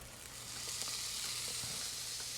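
Ground brisket smash burger patties fry on a hot cooking surface, a steady, bright hiss of sizzling fat that holds evenly throughout at moderate loudness, with faint pops scattered underneath.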